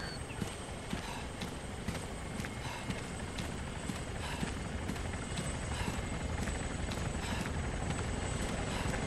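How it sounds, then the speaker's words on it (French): In the Arma 3 video game, a helicopter approaches with a loud, steady rotor thump and engine whine, the blade beats pulsing rhythmically and filling the whole stretch without talk. "J'ai le gunship en approche et l'hélico de transport en approche."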